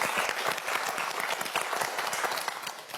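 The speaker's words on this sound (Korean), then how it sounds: "박수 한번 역시 보내주세요" Studio audience applauding a student contestant on a televised science quiz show, a brief burst of dense, even clapping that fades slightly toward the end.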